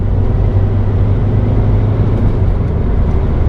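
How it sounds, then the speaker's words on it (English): A modified Ford Transit Connect camper van pulls hard under acceleration, its engine a loud, steady low drone heard from inside the cabin with no talking. "I'll have to hold on to the steering wheel here for the torque steer"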